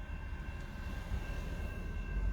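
A freight train approaches a railroad crossing, a low, steady rumble that grows slightly louder toward the end, with faint sustained tonal whine above it.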